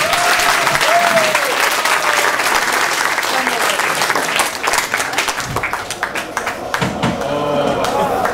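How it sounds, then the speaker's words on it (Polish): An audience at a speech applauds warmly, a dense sustained wash of clapping that thins slightly toward the end, with a few voices faintly underneath. "Proszę o gorący brawa."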